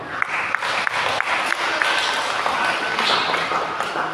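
A church congregation at a Filipino worship service claps together in a dense, sustained burst of applause. Steady rhythmic taps run through the clapping, and faint voices sit underneath.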